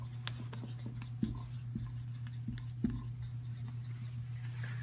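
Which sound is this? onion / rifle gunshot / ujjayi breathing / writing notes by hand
writing notes by hand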